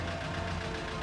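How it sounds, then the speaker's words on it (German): An old Hanomag tractor towing firefighting equipment in a fire brigade parade chugs along with a low, steady knocking engine beat, moderately close and without voices. "Ein alter Hanomag-Traktor."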